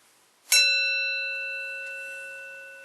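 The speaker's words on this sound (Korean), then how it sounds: "그래서 종을 치는 거야." A single bell is struck once and rings out clearly with a long, slowly fading tone. The sound is near and alone, with no talk over it.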